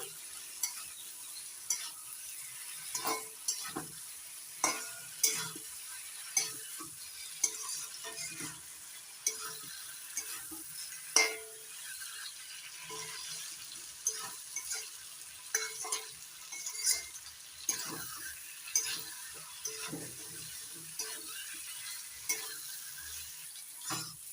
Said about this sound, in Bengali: এবার দিয়ে দিচ্ছি ভেজে রাখা পটল আর আলু। পটল আর আলু দিয়ে আরও 2-3 মিনিট কষিয়ে নেব।